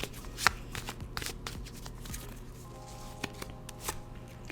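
Rider tarot cards being shuffled by hand: a soft, steady riffling and patter of card edges with a few sharper snaps, quiet and close, with no voices.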